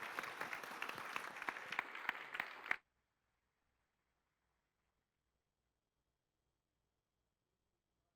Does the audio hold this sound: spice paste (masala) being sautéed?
no